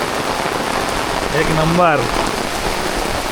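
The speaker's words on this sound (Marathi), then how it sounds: "काय पाऊस" Heavy rain pours down in a Konkan village in Ratnagiri, a dense, steady roar of drops on surfaces throughout, with a brief spoken exclamation heard over it midway.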